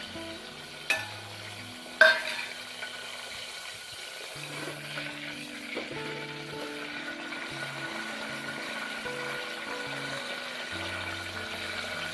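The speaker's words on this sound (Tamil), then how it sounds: "சீரகத்தையும் மிளகையும் போட்டுடலாம்." Cumin seeds and black peppercorns frying in hot oil or ghee as the tempering for ven pongal: a soft, steady sizzle with a couple of sharp clinks near the start, set against a faint tonal hum and no speech.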